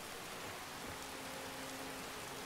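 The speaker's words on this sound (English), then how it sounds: "Yeah, it is raining." Steady rain falling in the Skyrim video game in the town of Falkreath, a dense even hiss of drops with a faint low tone beneath, heard alone without talk.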